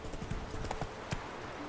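Horse hooves clip-clop steadily on the ground in The Witcher 3 video game, a quick rhythm of moderately close, light hoofbeats over a low ambient background.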